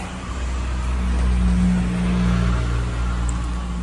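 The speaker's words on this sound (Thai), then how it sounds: "เอารถมาเปลี่ยนกล่องโซล่าครับ หรือว่ากล่องดีเซลแหละกำลังขี่เข้าไป" A car is driven in to have its diesel gearbox replaced, and its engine gives a steady close hum with a low droning tone that swells slightly and then eases, with no one talking.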